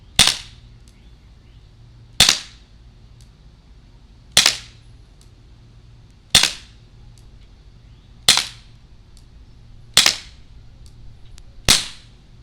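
Umarex Smith & Wesson M&P 45 CO2 pellet pistol firing seven sharp, crisp single shots spaced about two seconds apart, each a loud snap with a quick decay over quiet background.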